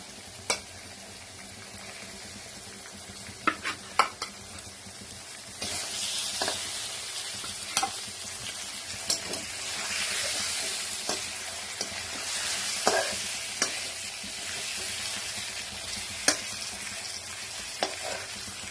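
Bhola fish sizzling in a pan with garlic paste, a steady frying hiss with a few sharp crackles and spits scattered throughout, growing louder about a third of the way in and staying close and continuous.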